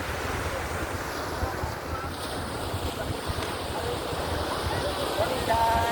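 Sea waves washing on a white sand beach at low tide in Liwliwa, Zambales, a steady broadband wash with wind noise on the microphone, continuous and fairly loud throughout.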